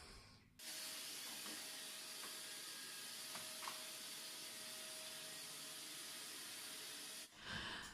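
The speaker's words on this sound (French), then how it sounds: "je viens de finir de passer l'aspirateur" A household vacuum cleaner, used while tidying the house, switches on with a steady, broad hissing whoosh that holds for several seconds before cutting off, with no talking.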